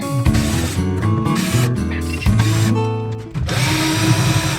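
Power drill backing screws out of an infrared heater being scrapped, close and loud motor whine in several bursts that rise and fall in pitch, with brief pauses between runs.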